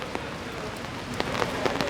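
Rain falls on the Champs-Élysées in Paris, a dense, steady hiss of drops on the street with a few sharper pattering taps close by.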